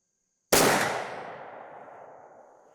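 Single loud rifle shot from a 50 caliber muzzleloader loaded with Triple Se7en powder and a 290 grain bullet, a sharp close blast after silence, then a long decaying echo rolling across the range.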